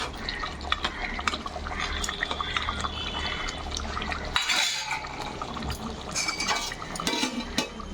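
Goat head curry cooking in a pot, with utensil clinks and scraping against the pot alongside bubbling, wet liquid sounds, close and moderately loud, with no one talking.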